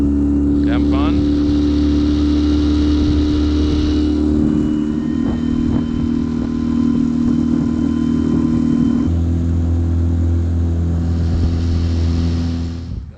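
A small 9.9 horsepower outboard motor pushes a jon boat through Florida Everglades waters, a steady close droning hum throughout with a shift in pitch partway, and a person speaks over it briefly.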